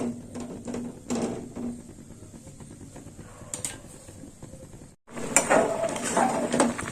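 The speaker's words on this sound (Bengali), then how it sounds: "দিয়ে দিলাম লবণ খুঁটি দিয়ে একটু নেড়ে টেড়ে দেবো" A spatula scrapes and clatters against a pan while salted papaya curry is stirred, giving several close metallic knocks and scrapes, with a brief silent gap before louder stirring resumes.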